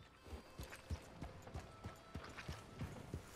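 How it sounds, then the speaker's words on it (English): Horse hooves clip-clop at a steady walking pace in the Red Dead Redemption 2 video game. The hoofbeats are evenly spaced and moderately close, heard alone over soft ambient background. "Wow, fine horse."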